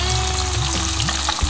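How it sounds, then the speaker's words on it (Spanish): Onion cooks in a pan with a little oil and salt, a loud, close, continuous sizzle with crackling and faint stirring scrapes, no voices. "He empezado haciendo la cebolla con un poquito de aceite y un poquito de sal."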